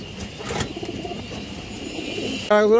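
A large green-necked pigeon at a pigeon seller's coos softly amid steady background rumble and some engine noise, and a loud, sharp harmonic tone cuts in at the very end.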